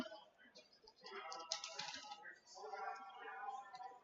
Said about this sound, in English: Let's get this all typed out here.